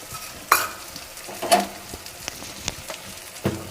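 Masala for a mutton curry frying in a pan while being stirred slowly, a soft sizzle beneath a few distinct spoon scrapes and taps, no one speaking.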